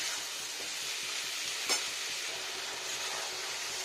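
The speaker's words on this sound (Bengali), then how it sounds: "আর কষাতে থাকি একটু ভালো করে," Potato, pea and paneer curry sizzling and frying steadily in a pan while being stirred, with one brief louder scrape of the spoon partway through; no voices.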